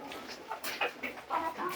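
Chickens clucking and calling inside a backyard poultry pen holding hundreds of laying hens, a steady mix of short bird calls at moderate distance with a faint voice mixed in.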